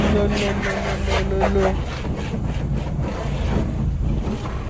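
Water splashes and sloshes over a Reliant Robin car in a broad rushing wash, with steady noisy turbulence throughout, wind-like rumble underneath and a voice speaking briefly early on.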